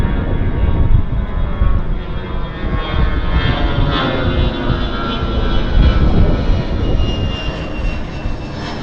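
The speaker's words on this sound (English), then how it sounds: "We've got a Dash 8 landing." A Dash 8 turboprop airliner, Air Canada Jazz inbound from Terrace, lands at Vancouver airport, its steady propeller and engine roar loud and close, holding a broad, even drone throughout with no talk.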